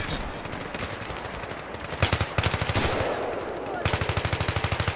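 Video game automatic gunfire clatters in rapid bursts, the rounds coming as sharp, evenly spaced cracks with short pauses between volleys, while faint talk sits underneath.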